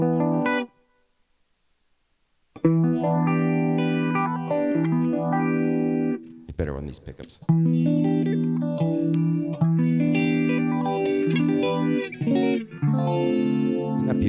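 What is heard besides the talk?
guitar through 1970s Phase 90 phaser pedal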